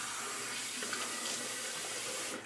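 Tap water runs steadily into a sink while a face is wetted before a shave, a faint, even splashing hiss that cuts off at the end.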